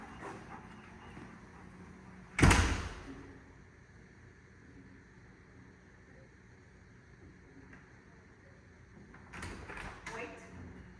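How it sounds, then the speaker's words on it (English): A door is pushed shut quickly during dog training, giving one sharp, loud thud early on, followed by a quiet room and faint shuffling near the end. "I'm going to shut this door real fast."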